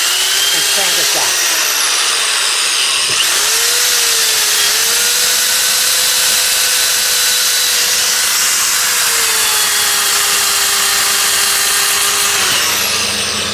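Sandpaper is held against a spinning wood turning on a lathe, making a loud, steady high rasp over the motor's constant whine, with the pitch shifting slightly as the pressure changes.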